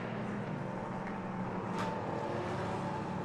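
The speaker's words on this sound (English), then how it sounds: "I'm not sure if you can hear the cars coming past where my commentary box is, but honestly, the whole thing is rumbling and rattling." LMP3 prototype race cars at the Nürburgring circuit give a continuous distant engine rumble and roar, with one car briefly swelling louder as it passes mid-way.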